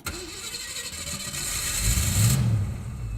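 A muscle car engine cranking and catching, then settling into a loud, deep rumble that swells as it revs before easing back to a steady idle, close by with no speech.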